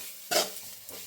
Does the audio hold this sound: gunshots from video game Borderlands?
no